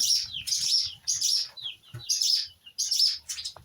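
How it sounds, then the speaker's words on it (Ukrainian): Swallows calling sharply at their nest, eager to feed chicks, give repeated bursts of high, twittering chirps in quick clusters, close and fairly loud, with no talk over them. "ластівки прилетіли у гніздо, сердяться, хочуть погодувати"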